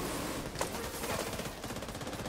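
Rapid bursts of automatic gunfire from a video game crackle in quick succession, fairly faint and dense, with no one speaking over them.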